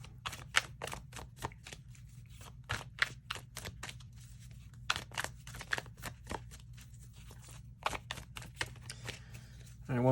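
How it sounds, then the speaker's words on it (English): Tarot cards are shuffled by hand in a quiet room, making a long series of quick, crisp riffling snaps at an uneven rhythm close to the microphone, with soft background hum between them. "All right, one more shuffle."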